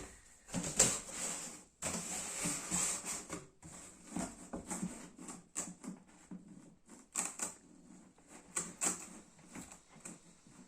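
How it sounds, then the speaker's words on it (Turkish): Packing tape is pulled from the roll and pressed onto a cardboard box to seal it, making intermittent ripping and rasping strips of sound with short pauses, close and fairly quiet. "koliyi bantlamak için olmazsa olmaz bant arkadaşlar"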